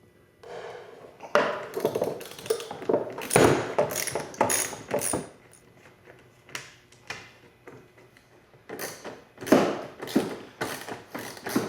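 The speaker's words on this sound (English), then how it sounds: "you'll need a 10mm socket wrench to hold the nuts in the back and a 10mm socket wrench to turn the nut on the front" A 10mm socket wrench ratchets nuts on a radiator bottle clamp of a Can-Am Maverick UTV, giving close, irregular bursts of sharp clicking with short pauses between runs.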